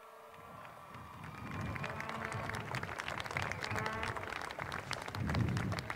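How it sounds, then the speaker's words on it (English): A large crowd at a soccer state championship game claps in a dense, continuous round of applause, swelling and rumbling a little over several seconds. "let's give these two fine clubs a great round of applause"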